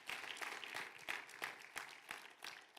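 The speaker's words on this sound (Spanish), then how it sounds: "dale un aplauso fuerte al Espíritu Santo" A church congregation claps loudly during worship, a dense wash of applause with strong rhythmic beats running throughout.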